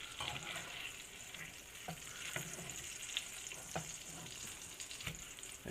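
Rainbow trout frying in oil over low heat, a steady close crackling sizzle with scattered sharp pops and spits, heard alone without talk.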